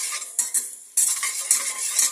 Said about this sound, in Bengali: আমি এখানে এটাকে নাড়ছি।